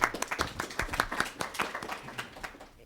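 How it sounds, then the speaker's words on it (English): Brief audience applause at a food event, a small group clapping with distinct, uneven hand strikes that start strong and taper off over a few seconds. "So a round of applause for each of you and all of you for being here."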